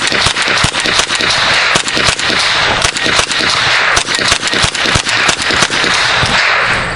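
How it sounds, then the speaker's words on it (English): Rapid suppressed gunshots from a CZ Scorpion EVO bullpup with a hearing-safe suppressor and subsonic ammunition, sharp cracks fired in quick irregular bursts, loud and close with no talking. "The suppressor is hearing safe. We've got subsonics in here, so you can just kind of hear how it goes."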